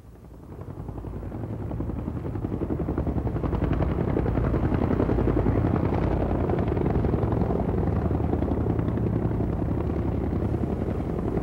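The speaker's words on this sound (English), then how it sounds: "let's go over to the Reyes Miller Airfield and go up in a National Guard helicopter" A National Guard helicopter flies over Camp Ripley near Reyes Miller Airfield in 1983, its rotor producing a loud, steady, continuous chopping drone that builds up over the first couple of seconds and then holds, with no voices.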